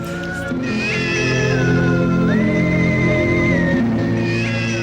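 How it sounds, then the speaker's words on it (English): A cat meows loudly and continuously, a drawn-out wailing call that rises and falls in pitch, close and unbroken for several seconds. "the cat's watching, and again, just that meowing is blasting over the top"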